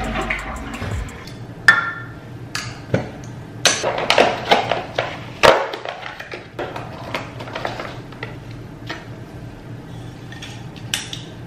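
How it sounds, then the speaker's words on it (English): A household toilet flushes with a sudden loud rush of water, followed by gurgling and refilling and several sharp clinks and knocks, recorded up close in a bathroom with no talking. "every time you flush your toilet, stuff like sprays out into the air"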